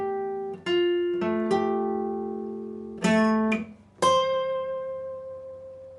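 An electric guitar plays a short lesson riff from a song: a handful of plucked, ringing notes and chords struck one after another, each left to sustain and fade, played alone and fairly clear.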